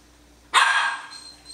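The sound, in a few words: Norwegian Elkhound dogs barking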